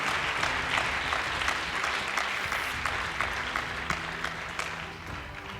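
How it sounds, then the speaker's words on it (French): Congregation applause during a church service, a full, continuous round of clapping from many people that stays loud and even before easing slightly at the end. "Applaudis très bien le Seigneur des Seigneurs."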